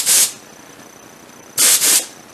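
Air compressor and sprayer hissing out floor finish in two short bursts, a loud broad hiss for about a quarter second, then a pause, then a longer double burst, with faint background noise between.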